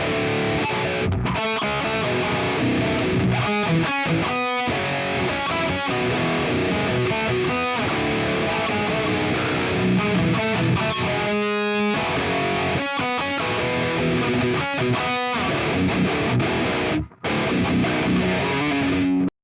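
High-gain distorted electric guitar plays the riffs of a song through a Quad Cortex, dense and loud throughout with choppy palm-muted stops and chugs, briefly cutting out near the end.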